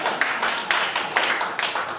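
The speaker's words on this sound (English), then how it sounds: "Clap if you do." Stand-up comedy audience clapping in a club, a brisk scatter of hand claps with irregular sharp taps throughout, moderately close and steady, no voices over it.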